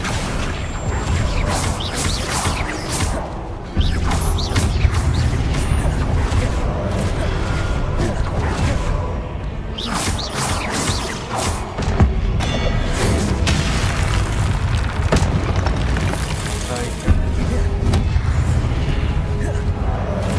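Spell-casting explosions in Hogwarts Legacy: a dense, loud run of booms, crashes and whooshes blending into one another with no break, a voice shouting spell names over the top.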